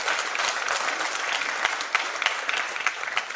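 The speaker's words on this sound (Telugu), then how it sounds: "గట్టిగా అందరూ కృషి చేసిన ప్రతి వాళ్ళకి చప్పట్లు కొట్టారు" A crowd at an SP Balu statue unveiling applauds in a dense, even burst of clapping, with a few sharper individual claps standing out near the end.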